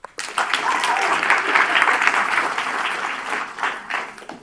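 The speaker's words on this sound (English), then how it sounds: "Let's also welcome him with warm applause." Audience applause welcoming a speaker at an academic symposium on machine intelligence, a dense, steady wash of many hands clapping that swells and holds for several seconds with no talk over it.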